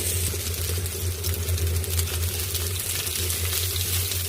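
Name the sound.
frying onions and chillies in a pan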